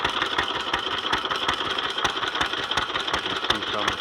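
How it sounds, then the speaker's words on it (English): A 1927 Detroit Moto Mower with a Briggs & Stratton PB single-cylinder engine idles rich, a steady rapid chugging putter with fast even firing pulses, close and loud throughout. "It runs a little rich at idle."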